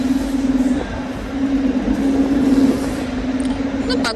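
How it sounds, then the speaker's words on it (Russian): A train pulls into a station with a steady, droning rumble that holds loud and close throughout, a faint high squeal rising briefly near the end. "А какой-то поезд тоже прибывает."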